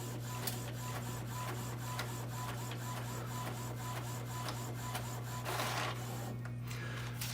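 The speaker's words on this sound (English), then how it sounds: "See it printing there." EcoTank inkjet printer printing a tattoo stencil, steady mechanical whirring with a constant low hum and regular ticking carriage passes, close up, with a brief rush of paper movement near the end.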